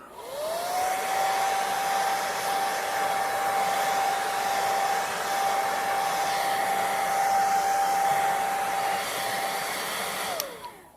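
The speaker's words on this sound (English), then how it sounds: "Handy dandy hair dryer." A hair dryer whirs loud and steady from start to finish, drying a thin coat on foam puppet arm rods, a constant whooshing hum that spins up at the start and cuts off abruptly near the end.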